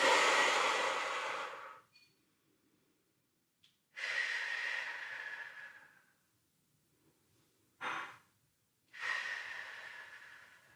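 Deep breathing during a lower-body stretching workout: four slow, close breaths, long airy inhales and exhales separated by silent pauses, with no talk.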